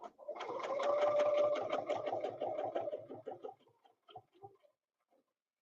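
A sewing machine quilting a block, its rapid needle chatter running steady and close for about three seconds, then slowing to a few short spurts before stopping.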